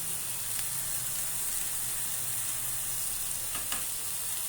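Ground cumin and Kashmiri chilli powder sizzle in a pan for kadai paneer, a continuous bright frying hiss with a couple of faint scrapes from stirring, close up and with no talking.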